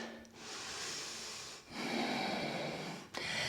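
Deep breathing during a yoga side body flow: two long, close inhales and exhales with brief pauses between them, soft and airy, with no talking.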